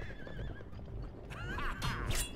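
A horse in the video game Sacred Gold whinnies with a rising, wavering call over steady background rumble, followed by a louder, brighter neigh near the end.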